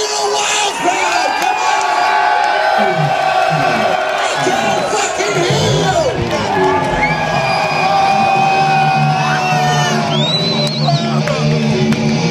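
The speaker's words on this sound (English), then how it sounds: "Let me hear the wild crowd." A wild crowd at a concert roars and cheers continuously, with whoops, shouts and high yells rising over a dense wall of voices, loud and sustained throughout.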